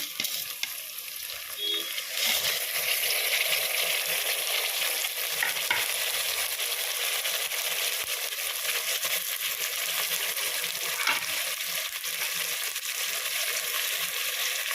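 Tomatoes hitting a hot pan for kadama biryani and frying, a steady loud sizzle with faint stirring scrapes that carries on evenly the whole way through.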